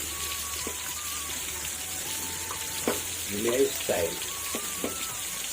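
Fish frying in a pan in a village-style home kitchen, a steady soft sizzle running throughout with a few louder crackles and spatters near the middle, and faint voices in the background.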